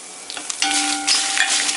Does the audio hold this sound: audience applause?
no